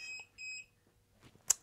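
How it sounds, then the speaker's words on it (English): Electronic alarm beeping indoors: two short high-pitched beeps in quick succession, followed by a sharper chirp amid faint rustling. "We're beeping again here."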